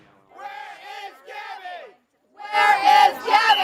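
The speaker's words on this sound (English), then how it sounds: "I don't think anything is going to hush this crowd." Protest crowd at a prayer vigil shouting in unison, two bursts of rhythmic chanting and then a louder, fuller round of chants after a short pause.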